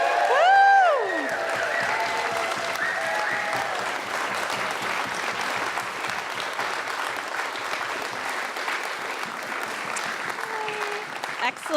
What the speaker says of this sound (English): Keep clapping if you feel like this is what democracy looks like.